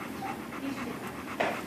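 An old dog pants softly and rhythmically at close range in quick, breathy huffs, with no talking.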